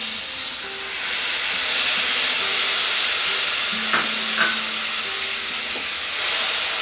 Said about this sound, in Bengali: ফোড়নটাকে 15 থেকে 20 সেকেন্ড ফ্রাই করব মিডিয়াম আঁচে।